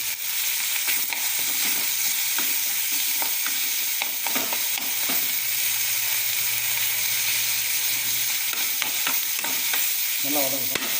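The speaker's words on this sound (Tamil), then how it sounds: "இஞ்சி பூண்டு விழுது, இதையும் போட்டு வதக்கலாம்." Ginger garlic paste and green chillies sautéing in a pan, a loud continuous sizzle with scraping and stirring clatter throughout, heard up close.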